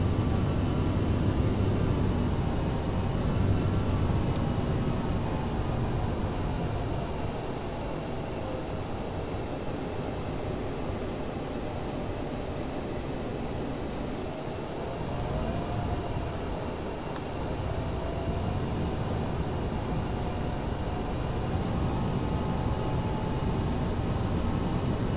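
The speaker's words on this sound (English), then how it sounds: "my aircraft CRJ 700 is ready" The jet engines of a CRJ 700 airliner produce a steady, even roar with a faint high whine, heard continuously and fairly quietly without any voices.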